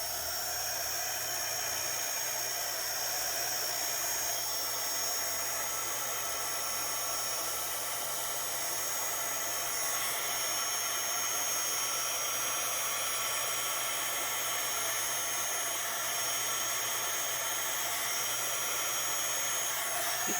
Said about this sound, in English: So I also have my handy dandy heat gun,